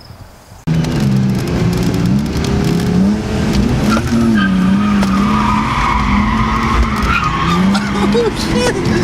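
A drift car skids hard with sustained, loud tire squeal wavering up and down over a steady engine roar, continuing for about eight seconds after an abrupt start, with voices heard faintly underneath.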